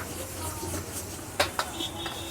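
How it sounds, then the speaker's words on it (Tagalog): Onions spattering in a wok during stir-frying of chaofan rice at an outdoor street stall in Divisoria, a soft steady sizzle with a few sharp metallic clinks and pops, close by. "Talaga yung mga sibuyas tumatalsik pa dito oh."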